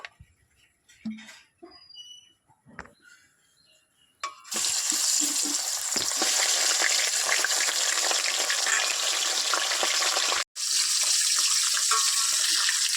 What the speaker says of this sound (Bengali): মাছের মাথাটা ভালো করে ভেজে নেব।